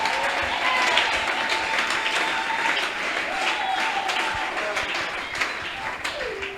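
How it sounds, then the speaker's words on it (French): A church congregation applauds steadily for several seconds, a dense wash of clapping filling the room with a voice carrying faintly over it. "Est-ce que nous acclamons le Seigneur Jésus?"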